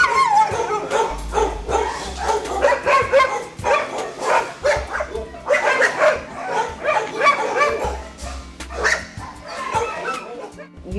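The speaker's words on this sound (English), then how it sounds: "seeing these fellas sit here day after day in these very small kennels and a very large room full of dogs" Many dogs bark, yip and whimper in a large room of small animal-shelter kennels, a continuous echoing chorus of overlapping barks at varying distances.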